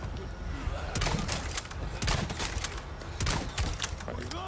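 Weapons firing in the video game Resident Evil 4, with a dense run of sharp shots and thuds over continuous game sound and music, with a player talking.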